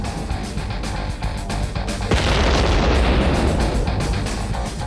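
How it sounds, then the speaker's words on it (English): Two modern-day artillery shells detonate in a loud, close blast that bursts into a broad, rumbling roar and lingers to the end, over steady crackling background noise. "Now, just 2 modern-day artillery shells did that."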